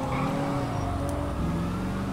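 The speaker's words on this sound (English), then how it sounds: "I just heard sirens." Police sirens in the video game GTA 5, a continuous wailing tone sweeping up and down over a steady car engine drone, sounding loud and close throughout.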